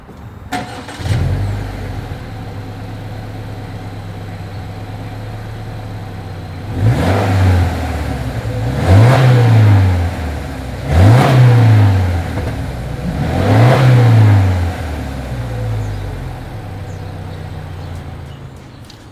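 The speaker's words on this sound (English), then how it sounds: "As always, here is that exhaust clip." A 2020 Subaru Legacy XT starting up and idling, then four to five sharp revs rising and falling at a steady rhythm, heard close from the exhaust, loud and alone without talk.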